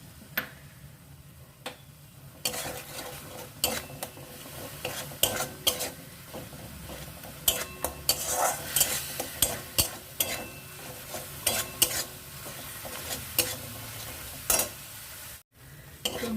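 Spice paste for a cauliflower, potato and soy chunk curry sautés in a pan, a low sizzle broken by frequent sharp scrapes and taps of the spatula against the metal, close up and without speech.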